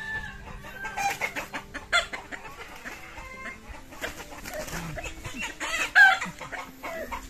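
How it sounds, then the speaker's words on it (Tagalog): A caught chicken clucks and squawks in agitated bursts, with scattered calls from other farmyard fowl and a rooster among the rustling noise. "Huli ka na manok"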